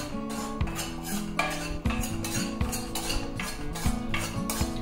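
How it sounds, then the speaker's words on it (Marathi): Wheat flour is dry-roasted and stirred over low heat in a pan, with a utensil scraping and clinking against the metal in a steady rhythm of repeated strokes, close and fairly loud. "आता गव्हाचं पीठ भाजत आहे, मंद आचेवर भाजायचं"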